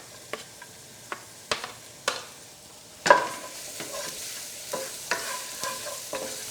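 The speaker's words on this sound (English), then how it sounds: "First, I will just stir fry garlic and ginger." Garlic and ginger stir-fry in about two tablespoons of vegetable oil in a pan, with a soft, constant sizzle broken by repeated sharp scrapes and knocks of a utensil against the pan at an uneven pace.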